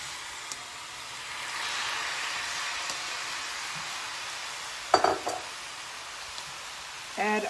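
Beef and onions cook in a pot for nikujaga, giving a soft, steady sizzle with occasional light clinks and scrapes from stirring, fairly quiet and continuous throughout.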